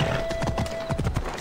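Horse hooves clip-clop at a steady trot in Assassin's Creed Odyssey, close and rhythmic, with occasional snorting from the mount and faint game ambience underneath.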